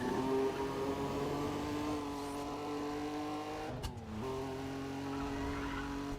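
A Saleen S7 with an American V8 in Need for Speed: Pro Street holds a loud, steady engine drone that dips briefly as if shifting or braking, then carries on with tire noise, with no talking.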